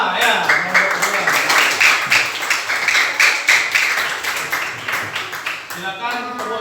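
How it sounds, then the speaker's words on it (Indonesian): Students in a classroom clap together in a quick, rhythmic burst of applause, close and fairly loud, the claps pulsing steadily for several seconds before trailing off as a voice speaks. "Silakan tepuk tangan"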